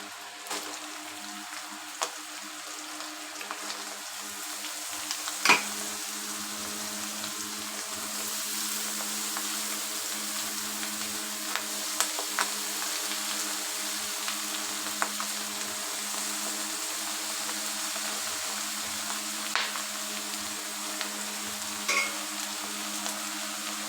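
Snake gourd sizzles steadily in a frying pan, a continuous close hiss with occasional small pops and stirring clicks, no voices.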